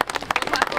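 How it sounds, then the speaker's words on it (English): A brief burst of crowd clapping for a race driver at a Club Milton Speedway event, several people clapping quickly and unevenly at close range for under a second. "Give him a round of applause."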